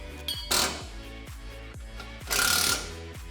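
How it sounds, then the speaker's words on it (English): Factory sway bar bracket bolts coming off a Mustang with a power tool, two loud bursts of rattling impact over a steady underlying hum and ringing metallic clicks, close and alone. "You're going to want to remove the factory bolts"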